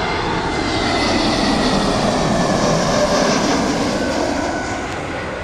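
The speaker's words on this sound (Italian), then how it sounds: "L'aereo Wizz Air proveniente da Dortmund di Germania verso Fiumicino, che il motore è CFM LIP." Wizz Air Airbus A321neo with CFM LEAP engines landing at Rome Fiumicino, a loud steady jet roar with a broad engine whine, sustained throughout and easing slightly at the end.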